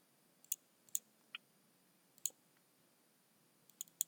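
A computer mouse clicks sharply and close, several single and double clicks spaced apart against near silence.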